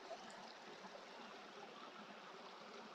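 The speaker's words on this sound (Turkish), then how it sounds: "şu suyun güzelliğine baksanıza. Ne de güzel akıyor" A flowing stream in the countryside gives a steady, even rush of water, continuous and moderately near, with no voices.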